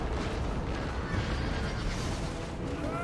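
Cannon fire in the Empire: Total War strategy game, a dense rumbling barrage of booming artillery shots rolling together, loud and continuous, with faint talk beneath.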